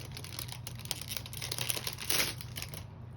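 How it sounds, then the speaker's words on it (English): Craft supply packaging crinkles in quick, crackly bursts while items are unpacked, a close, moderately loud rustle that swells near the end. "sorry for the crinkling"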